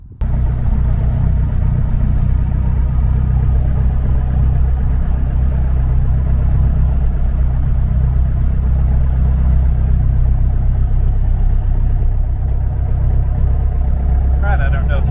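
A Lycoming O-360 aircraft engine with its cowling off runs steadily while warming up, a loud, even low-pitched drone throughout with no talk over it.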